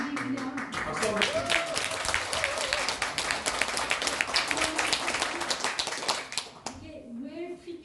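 Audience applause at a rare disease forum event fills the room with continuous, dense clapping from many people, holding steady for several seconds before fading out, with faint voices underneath.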